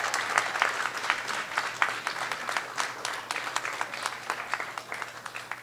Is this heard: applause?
yes